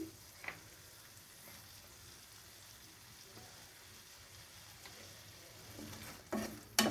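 Banana flower curry with peanuts sautés in a pan with a soft, continuous sizzle, broken by faint scrapes and taps of stirring and a louder clatter at the end.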